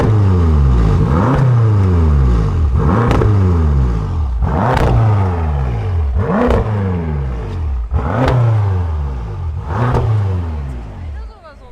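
A hot car engine, heard from behind, is revved repeatedly: about seven loud surging blips, each rising and falling away in a regular rhythm with a deep exhaust rumble.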